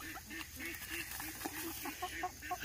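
Bantam chickens such as d'Uccles and frizzles cluck in a garden, a run of short, repeated, nasal calls close by at a quiet level, with no talk over them.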